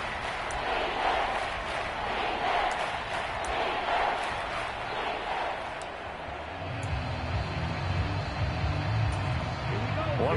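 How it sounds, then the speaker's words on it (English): Stadium crowd noise swelling in an American football video game ahead of a big third down, a steady broadband roar that builds late, with a commentator talking over it. "the crowd getting into it as we come up on a big third down"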